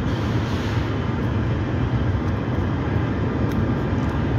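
A CSX freight train rolls past on the Delair Bridge with a dense, steady rumble and roar that stays fairly loud and continuous throughout, with no voices.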